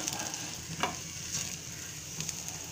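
Chopped green chillies fry in oil in a pan for street-style onion kachori, giving a steady, fairly quiet sizzle with a few faint stirring clicks, heard alone at close range.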